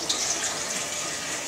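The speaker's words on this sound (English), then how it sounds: "You can just fill it with the hot water" Hot water gushes into a saucepan or bowl in a close, steady rushing pour that fills the whole moment.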